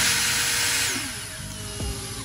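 Short whirring bursts as screws are driven into 440 hex standoffs on a 3D-printed part, loud at first, then the motor whine winds down and tails off.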